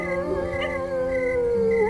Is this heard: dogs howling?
yes